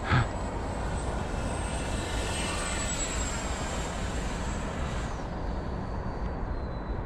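An FMS F-16 Fighting Falcon RC jet with a 64mm electric ducted fan flies at full throttle, giving a loud, continuous high-pitched whoosh and whine that fades slightly near the end.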